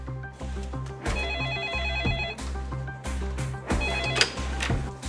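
A telephone bell rings in repeated bursts over a steady musical backing, moderately loud and continuous throughout.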